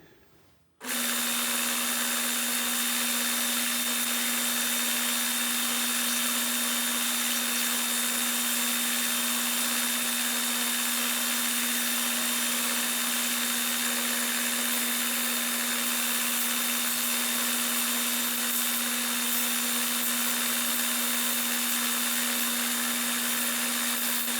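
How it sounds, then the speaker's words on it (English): A belt sander starts abruptly and then runs with a steady, loud whirring drone and constant grinding hiss as it breaks the edges of a wooden label, with no voices. "I'm at the belt sander."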